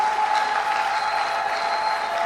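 A church congregation applauds steadily in dense, continuous clapping, with a sustained tone running underneath throughout.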